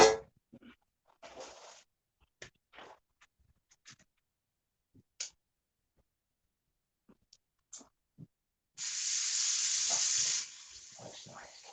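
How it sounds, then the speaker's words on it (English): Venison steak hits a hot pan on a wood stove and sizzles in a loud hissing burst lasting a second or two, after scattered quiet clicks and taps. "Got a good sizzle."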